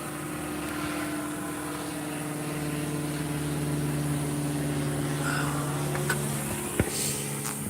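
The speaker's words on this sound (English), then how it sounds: "That was a Piper Cub." Piper Cub propeller plane passing overhead on a sunny day, a steady droning engine hum with a smooth slow pitch shift, moderately loud outdoors without talk.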